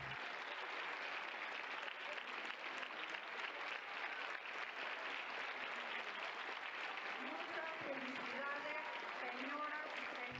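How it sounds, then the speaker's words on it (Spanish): Sustained applause fills a session hall of Mexico's Supreme Court of Justice as newly sworn ministers enter, a steady dense clapping throughout with voices rising faintly beneath it toward the end. "al ingresar a la sesión fueron recibidos con aplausos en el Salón de Plenos"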